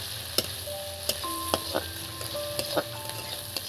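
Capsicum frying in a pan for Maggi noodles gives a soft steady sizzle, broken by several sharp clinks and scrapes of a spatula stirring against the metal.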